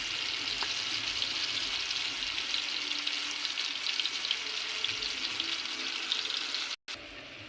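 Turmeric and chili powder stirred into a hot frying pan, a continuous bright sizzle that holds steady for several seconds and drops out briefly near the end.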